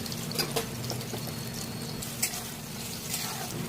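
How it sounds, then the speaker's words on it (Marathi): Peanuts, garlic and coconut dry-roasting in a pan for a Khandeshi baingan bharit, giving a steady low sizzle and rustle with a few soft scraping stirs, close and alone. "शेंगदाणे खोबरं छान भाजून घ्यायचं आहे"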